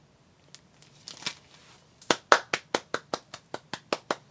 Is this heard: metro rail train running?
no